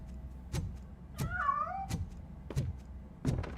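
A cat meows once in the video game RoboCop: Rogue City, a short wavering cry set amid intermittent thuds and footstep-like knocks at a moderate level.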